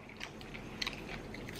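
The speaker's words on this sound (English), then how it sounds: "I love that crunch." Someone bites into and chews a crunchy taco up close, giving a few sharp crackling crunches over a soft, continuous chewing texture, with no talk.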